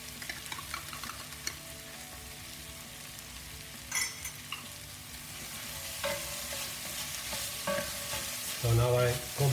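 Minced beef and tomato paste frying on high heat in a pan, a dish for baked eggplant; constant close sizzling with repeated stirring scrapes and occasional louder utensil knocks against the pan.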